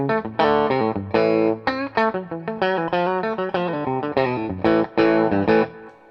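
An electric guitar with its bridge humbucker coil-tapped plays a quick run of distorted picked notes and short chord stabs, bright, loud and close, with no talking.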